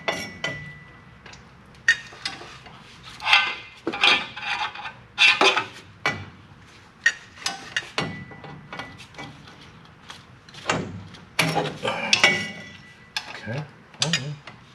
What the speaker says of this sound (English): Book calls for 65 foot-pounds, so we got our snap-on torque wrench